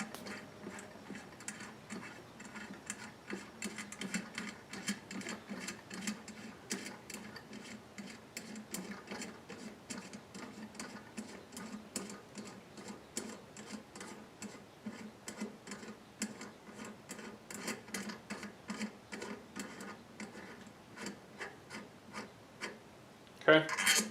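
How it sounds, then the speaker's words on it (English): Bolt being unscrewed during a snowman decoration repair, a steady run of faint close ticking and ratcheting clicks lasting over twenty seconds, closing with a few louder knocks. "Yet another bolt to unscrew."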